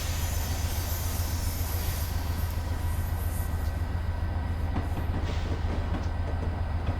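A Metro-North diesel train runs in Train Simulator 2019, with a constant engine drone and rolling rumble, faint rhythmic rail clatter throughout, and no talking.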